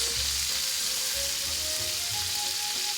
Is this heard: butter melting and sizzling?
yes